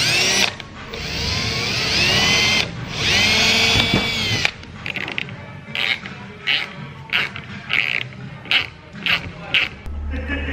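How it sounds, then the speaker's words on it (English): A power drill whines loudly in two long runs, then a series of short, rhythmic bursts follow as it bores holes for inserts in an R34 Skyline, close to the microphone. "So let's drill some holes for the inserts."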